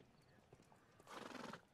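A horse in the video game Sherlock Holmes: The Devil's Daughter gives a loud, bright whinny over hoof clip-clop, rising sharply for about half a second after a short quieter stretch.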